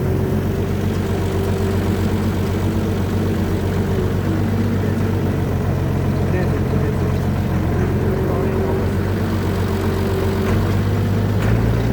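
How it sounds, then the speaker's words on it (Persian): A tractor engine runs steadily while driving a crop sprayer, giving a loud, continuous low drone with a constant mechanical hum throughout and no clear pauses. "با سرعت گرفتن گاز تراکتور میزان پاشش دستگاه هم به طور اتوماتیک بیشتر میشه"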